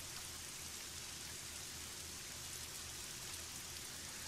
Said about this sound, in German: Hinter der Mauer ist der Regen wieder losgegangen.